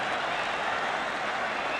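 Sunderland football crowd at a 1980s league match giving a sustained, loud wash of applause and murmuring noise after a player goes down, dense and continuous throughout.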